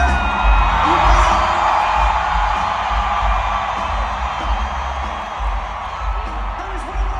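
A large concert crowd in Vancouver cheers and whoops loudly and continuously in a dense roar that swells and fades slightly, with scattered shouts rising above it.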